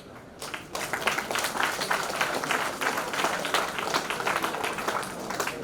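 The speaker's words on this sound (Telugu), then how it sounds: "పెద్దలు మాట్లాడినప్పుడు దానికి స్పందన తెలియజేసేటటువంటి విధానము ఒకటి చప్పట్లు మాత్రమే." An audience at a ceremony honouring Dr APJ Abdul Kalam's birth anniversary claps in sustained, dense applause that starts abruptly after a short quieter moment and holds steady to the end.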